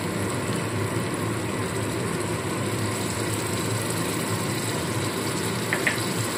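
Beaten sour yogurt hits hot fried ginger-garlic masala in a pan for a festive cauliflower roast, giving a steady, even sizzling hiss that runs unbroken throughout, with no talking.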